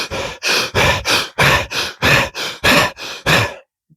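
A man imitates hard uphill bike riding with heavy, forceful breathing: nine rapid, evenly spaced loud breaths in a steady out-and-in rhythm, close to the mic, then a sudden stop.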